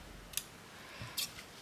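Scissors are handled while sewing a small fabric key fob, giving two sharp snips or clicks about a second apart against quiet room background.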